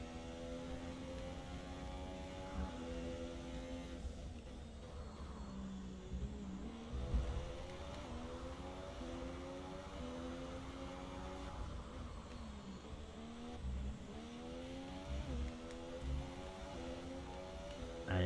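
Formula 1 race cars in the video game F1 2017, engines whining and rising through repeated gear shifts in a continuous stream, layered engine tones from several cars close by.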